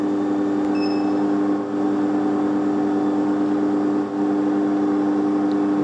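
A car engine running to generate electricity idles in a steady, droning hum, loud and close, with a couple of slight dips in level and no voices.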